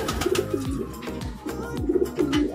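Pigeons in a loft give repeated soft, rolling coos in close succession, near and moderately loud, with some rustling and a faint background hum.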